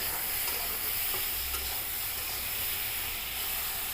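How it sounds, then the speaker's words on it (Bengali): Potato and ridge gourd with salt are stirred in a hot pan, giving a steady, even sizzle and hiss with faint scraping, quiet and close, with no voices. "এবার লবণের সাথে এই আলু ঝিঙ্গেটা ভালো করে মিশিয়ে দিব।"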